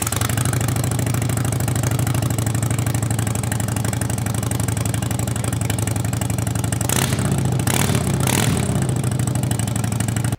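A custom Harley-Davidson Heritage Softail motorcycle idles loud and close with a deep, pulsing exhaust rumble, broken by a few short sharp blips of throttle near the end.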